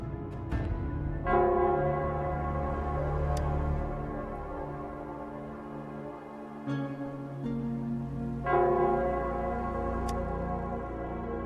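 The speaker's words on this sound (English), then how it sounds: "it's the Nell Squares bell." Nell Square bell in the video game Wuthering Waves, ringing in sustained, resonant strikes with long decaying overtones; three clear strokes sound about every few seconds over a low ambient hum.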